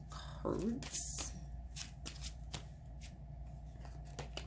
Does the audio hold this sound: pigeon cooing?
no